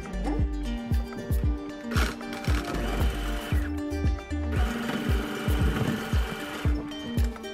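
A sewing machine runs a top stitch on a blouse in quick bursts of rapid mechanical whirring, stopping and starting several times, close up with brief pauses between runs.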